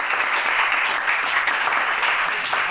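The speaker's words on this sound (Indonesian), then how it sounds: "Berikan tepuk tangan." Students applaud in a classroom, a dense, steady wash of many hands clapping together at moderate loudness, continuous without pauses and with no talking over it.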